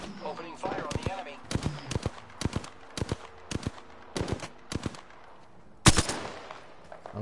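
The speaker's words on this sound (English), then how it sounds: "Opening fire on the enemy." Rapid bursts of automatic gunfire in the Apex Legends shooter, short sharp volleys repeating in quick clusters with a louder, closer blast near the end.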